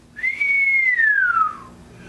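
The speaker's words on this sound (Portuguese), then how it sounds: "Soltei um assobio alto e grave." A single loud, low human whistle held steady for over a second, gliding slightly downward at the end, alone with no talking.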